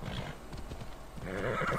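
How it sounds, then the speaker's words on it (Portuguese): A steed in the Assassin's Creed Odyssey video game, hooves clip-clopping close by and then a whinny rising over them, short and moderately loud. "Vamos chamar os cavalinhos, né? Tem um corcel também pra mostrar pra vocês."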